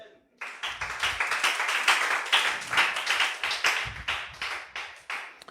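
A church congregation clapping together in acclaim of the Lord, a dense, rhythmic burst of hand claps that starts abruptly and keeps a steady beat, loud and close, with no talk over it.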